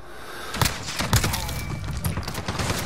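Rapid gunfire from a weapon in Call of Duty: Modern Warfare, sharp repeated shots cracking in quick bursts over a busy background of game sound.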